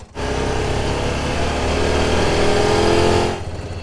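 Honda Pioneer 700 side-by-side with an OEM full poly windshield driving back in, its engine a loud, steady close drone that holds, then drops away at the end.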